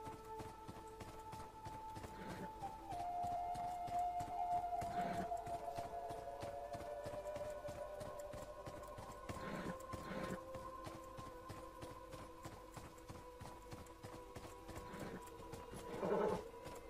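Horse hooves clip-clop in the video game Beyond Two Souls, a rhythmic run of hoofbeats under game ambience and a sustained musical tone, with louder thumps every few seconds.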